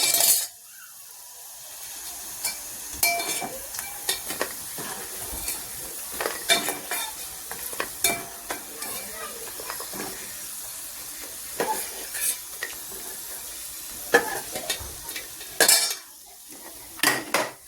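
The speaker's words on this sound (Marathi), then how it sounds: "शेंगदाणे पण आपले छान तळून झालेले आहेत." Peanuts frying in oil in a pan, stirred with a metal spoon, a low sizzle under repeated clinks and scrapes against the pan, up close with no talk.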